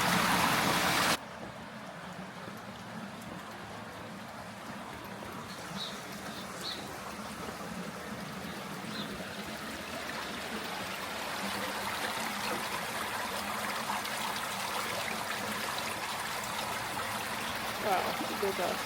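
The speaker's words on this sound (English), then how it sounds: "Wow, that's a lot of water. River's going under there." A river rushes beneath the houses and street of a hidden village in France's Charente and Dordogne area, giving a steady broadband wash of flowing water that holds at an even level throughout, with a brief louder burst at the very start.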